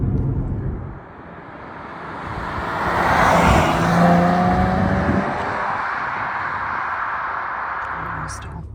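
A 2023 Nissan Z Performance sports car drives along, its engine a steady broadband roar heard from inside that swells to a peak midway, then settles into a constant drone without any talking.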